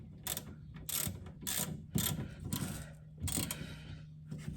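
Clicking ratchet work on the rear brake bolts of a 2010 Kia Soul comes in several quick bursts with short pauses between, close and fairly quiet.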